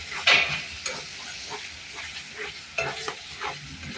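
Tomato paste and chili paste stirred in a frying pan, with a gentle sizzle under repeated scraping strokes of the spatula and a sharp clink near the start.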